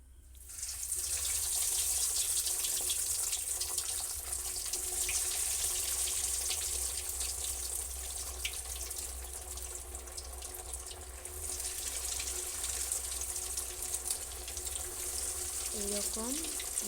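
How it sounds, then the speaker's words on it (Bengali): Jackfruit cutlets dropped one by one into hot oil set up a dense, continuous sizzle that starts abruptly after half a second and stays close and even to the end. "এবার আমি কাটলেটগুলোকে একে একে গরম তেলের মধ্যে ছেড়ে দিচ্ছি।"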